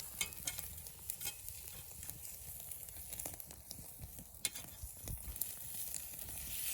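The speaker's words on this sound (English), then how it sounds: "Meat grilling on the flame." Steady crackling sizzle of meat grilling over an open flame at a winter campsite in Manistee National Forest, with scattered pops and faint clinks, continuous and close throughout.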